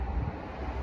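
A brief gust of wind buffets the microphone with a low, steady rumble.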